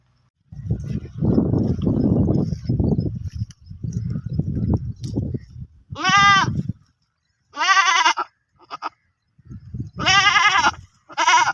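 Several loud, nearby goat bleats ring out in the second half, wavering and nasal, following a stretch of low rumbling sounds.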